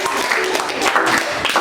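Brief burst of classroom applause during a teaching-practice session, dense broadband clapping from a group mixed with voices and chatter throughout.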